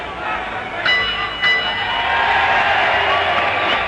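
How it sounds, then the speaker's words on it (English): At Maple Leaf Gardens, the final bell of a boxing fight rings twice in quick, bright strikes, with a large arena crowd roaring steadily all around it. "After making it to the final bell, Foreman succeeded in surviving a night against 5 professional boxers"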